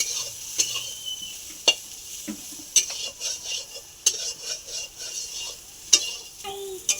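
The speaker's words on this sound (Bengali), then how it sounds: "এখানে আমি হালকা করে ভেজে নিয়েছি দেখো, খুব একটা কড়া করে ভাজলে হবে না" Ingredients for a soybean curry lightly frying in a pan, a soft background sizzle broken by repeated sharp clinks and scrapes of a utensil stirring against the metal.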